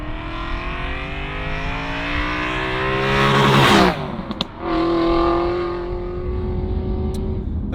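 A 4.3 V8 Aston Martin Vantage with an upgraded exhaust accelerates hard through the gears, its engine note climbing in rising sweeps, dropping briefly at a gear change, then pulling again, loud and close with no speech.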